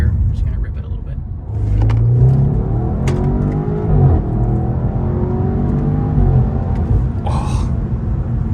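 A tuned BMW M550i accelerates hard in second gear, its engine note climbing in a loud rising sweep and then holding a strained drone with intake whir, heard from inside the car while people talk and gasp.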